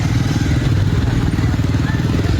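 A scooter engine rumbles steadily close by, with a low throbbing putter and a faint rattle as it rides.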